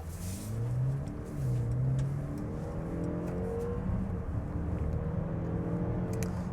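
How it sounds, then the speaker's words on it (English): A 2024 Mercedes GLE SUV pulls hard up a slip road, its engine note rising in steady harmonic sweeps that dip at each gear change, heard from inside the cabin over continuous road and wind rumble. "when the engine's accelerating and as it changes gear, you can feel the electric like almost fill in the gaps."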